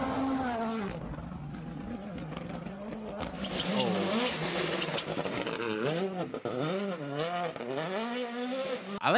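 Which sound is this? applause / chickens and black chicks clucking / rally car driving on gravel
rally car driving on gravel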